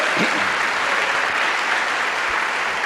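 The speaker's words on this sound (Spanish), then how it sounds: "Denle un aplauso al Rey" Dense, steady congregation applause during a church sermon, loud and continuous for the whole stretch with no talk over it.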